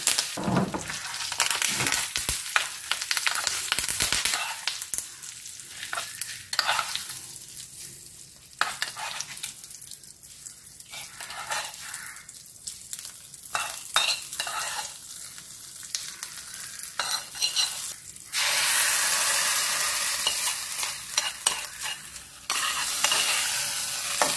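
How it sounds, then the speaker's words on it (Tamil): Hot oil tempering with asafoetida and curry leaves after the stove is switched off, for a tomato and coconut chutney: steady close frying sizzle with crackling bursts and occasional stirring, loudest toward the end. "சூப்பராக தாளிப்புதல் போட்டாச்சு"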